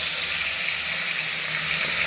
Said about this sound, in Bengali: আর মাছের মাথা খুব ফাটে। তো আপনারাও সাবধানে ভাজবেন মাথাটাকে।